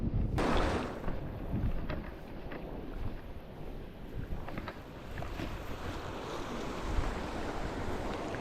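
Sea waves washing in on a Konkan beach as the tide comes in, a steady broadband surf roar with wind buffeting the microphone, a few louder wave breaks rising above the continuous wash.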